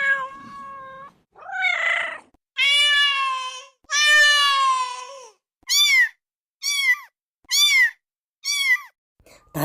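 Kindergarten children in a music class imitate a cat with their voices: a few long, drawn-out meows, then a run of short, evenly spaced meows, loud and close.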